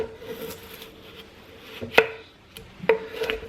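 A ceramic knife slices through a raw russet potato being cut into French fries, giving two crisp, close chops against a quiet kitchen background with faint rubbing between strokes.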